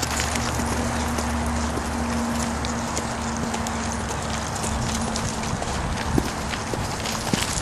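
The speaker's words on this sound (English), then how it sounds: "He's got a nice trot, even trot." A four-year-old quarter horse trots with an even, steady clip-clop of hooves, close and continuous against a noisy outdoor background.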